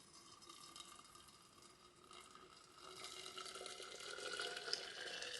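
Water runs and pours into a container for green tea, a soft steady splashing that grows a little louder toward the end.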